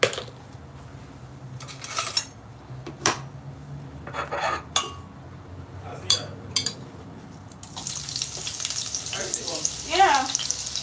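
Onions frying in a pan, with clanks of cookware and utensils, then a loud sizzle as they hit the hot oil. A person talks softly between the clatters.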